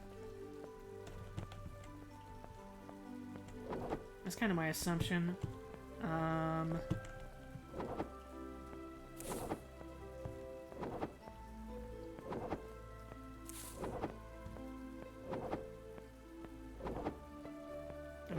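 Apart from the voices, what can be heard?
rain in video game Mask of Mists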